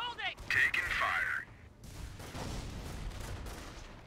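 Gunfire and explosions in Company of Heroes, a World War II strategy game: sharp bursts and booms at moderate distance under a battlefield din, with a game voice speaking over part of it.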